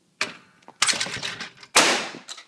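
Shotgun fired at skeet targets outdoors, a few sharp loud blasts in quick succession, each with a brief decaying tail, separated by short quiet gaps.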